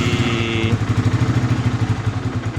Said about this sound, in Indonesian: kita bisa melihat bunyi mesinnya ya